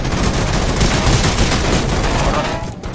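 Rapid bursts of gunfire crackle densely and loudly during a Rules of Survival battle royale match, a near-continuous fusillade that cuts off abruptly near the end.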